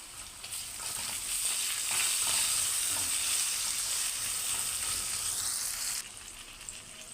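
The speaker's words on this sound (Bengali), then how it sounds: "টমেটো আমার ভাজা হয়ে গেছে।" Chopped tomato frying in oil in a pan with onion, for a prawn curry, giving a steady close hiss and sizzle that swells and then eases slightly near the end, with no talking.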